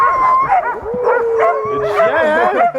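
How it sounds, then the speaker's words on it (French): A large pack of sled dogs at a kennel of around fifty dogs, barking, yipping and howling all at once in a loud, continuous chorus of overlapping voices close by. "Quand on arrive au Chenil, là, il y a environ une cinquantaine de chiens"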